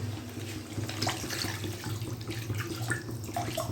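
Water pours steadily and continuously into a pot of river fish curry during cooking, a close, even rushing splash lasting throughout.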